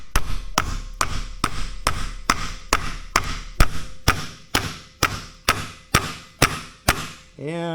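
A 1999 Jeep Cherokee driveshaft U-joint bearing cap is driven down with a hammer on a socket, about fifteen sharp, evenly spaced metallic blows struck close by. A brief scraping sound follows the last blow.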